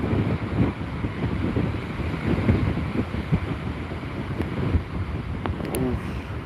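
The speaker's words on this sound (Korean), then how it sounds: "파도가 점점 더 높아지는 것 같은데" Continuous roaring surf and heavy wave wash from Typhoon Bavi on Jeju Island, with strong wind buffeting the microphone, steady and loud throughout, with no clear individual breaks standing out.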